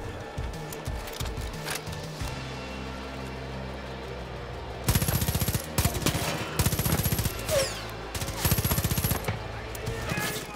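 Machine gun fire rattles in Far Cry 5 co-op, long fast bursts of close, loud automatic shots over game noise, with a quieter stretch of battle sounds before the heavy firing starts.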